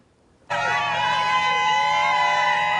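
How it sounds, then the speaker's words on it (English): A massive record-setting crowd at the NFL draft in Detroit erupts all at once into a loud, sustained roar, with steady droning horn-like tones riding over the cheering for several seconds. "A massive record-setting crowd at the NFL draft"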